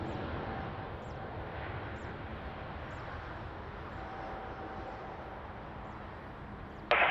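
A jet airliner on approach to land on runway 20 at Lisbon Airport, a steady broad engine roar held at moderate distance throughout, with a brief sharp burst of noise at the very end.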